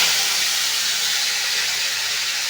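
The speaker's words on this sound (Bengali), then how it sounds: "এবারে মাছগুলোকে ভেজে নেব।" Fish sizzle in a small amount of hot oil, a loud, steady, close hiss of frying that holds evenly without pause.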